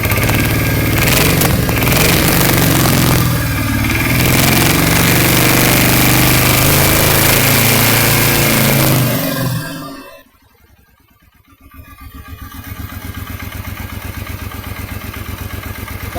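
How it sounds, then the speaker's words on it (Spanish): A 2006–2014 Suzuki Intruder VZ800 motorcycle engine with a connecting rod knock runs loudly with a rough clattering rhythm, dips briefly near the end, then settles back into a steady idle, heard alone without talk. "La moto viene con un sonido de biela."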